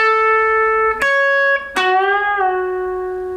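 Electric guitar playing a lead phrase from a guitar solo: a sustained clean note, a quick pick attack, then a string bent up and held with a slow, wavering rise, close and alone.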